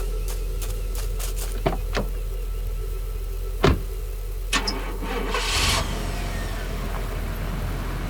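A truck engine is started in an audio drama: a few sharp mechanical clicks and a door-like clunk come before the engine catches and settles into a low idle, with no talk over it.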